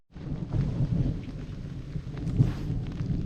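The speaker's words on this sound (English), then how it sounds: "It's raining." Steady rain falling outdoors on an Iowa farm while the sun shines, a soft continuous hiss with a few heavier patters, moderately close, with no voices.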